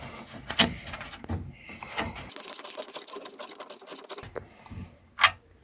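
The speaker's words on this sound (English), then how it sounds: "The windscreen washer just unscrews." A windscreen washer unit being unscrewed from the dashboard of an MGB under restoration, giving a run of close, dry plastic clicks and creaks with a sharper snap near the end.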